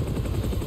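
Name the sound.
helicopter outside, from video game Spider-Man 2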